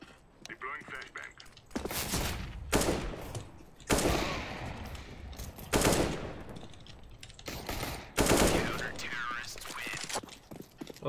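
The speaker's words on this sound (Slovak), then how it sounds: "Nič som nikomu nebral, lebo som strieľal do prázdna" Rapid bursts of gunfire in Counter-Strike: Global Offensive, several loud volleys spread across the clip with short gaps between them, mixed with game clatter and players talking over it.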